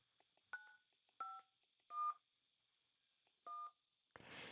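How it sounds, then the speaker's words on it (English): DTMF keypad tones from a 3CX softphone dialer dialing out, four short, clean beeps in an uneven rhythm, followed by a burst of line noise, with no talking. "To make a phone call, click on the little phone here, the dialer can dial out."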